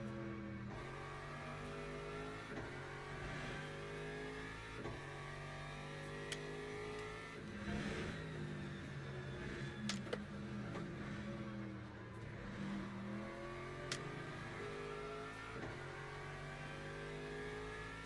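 A race car engine in the Le Mans Ultimate sim revs hard and shifts up through the gears, with repeated rising whines cut by gear changes, loud and continuous throughout.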